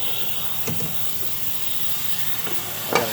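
WD-40 sprayed from an aerosol can onto bolts during an EGR valve replacement on a Ford Powerstroke diesel, a steady close hiss with a few faint metallic clicks.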